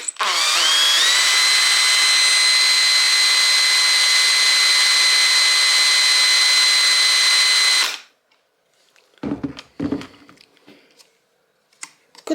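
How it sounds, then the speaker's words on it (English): A power drill whirs steadily at high speed for several seconds, spinning an Audi TT heater blower motor, then cuts off, followed by a few faint clicks and handling noises. "So I'll just spin it with the drill."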